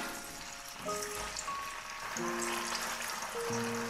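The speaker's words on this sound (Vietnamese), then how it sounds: "Dầu nóng lần lượt mình sẽ cho từng miếng đậu hũ vô chiên." Pieces of tofu fry in hot oil in a pan over medium-high heat, giving a steady, dense sizzle and crackle throughout, with faint tonal music behind it.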